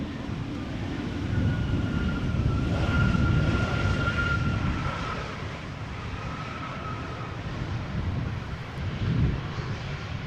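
A KLM Embraer 190 jet airliner arriving at Amsterdam Schiphol Airport, a steady broadband engine roar that swells gently and holds, with a faint whining tone, loud and sustained with no talk.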